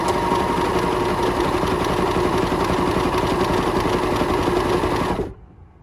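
An overlocker sewing machine runs steadily, pulling re-tied threads through as it stitches gently, a dense rapid mechanical whirr that continues unbroken for about five seconds and then cuts off.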